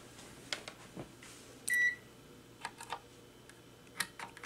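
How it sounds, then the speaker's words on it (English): A multimeter in continuity test mode gives one short, clear electronic beep among quiet clicks and taps of handling. "I get my meter. I just have it set to continuity test."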